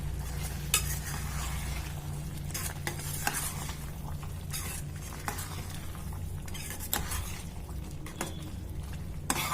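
Baby potato curry is stirred in a pan. A spoon scrapes and clinks against the pan while the curry sizzles steadily underneath, close and moderately loud, with no talking.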